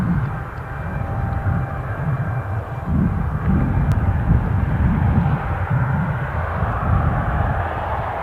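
KLM airliner at Newcastle airport, a steady low engine roar from a distance with a slight swell midway, no voices.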